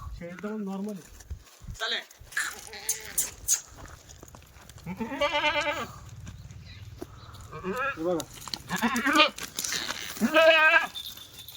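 Kathiawari goats bleat several times in wavering cries, close by, with people talking and moving around them between the calls.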